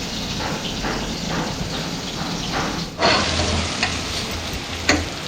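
Onions frying for a mutton curry in a village kitchen, a steady dense sizzle filling the whole clip with a few louder crackles and stirring bursts near the end, no voices.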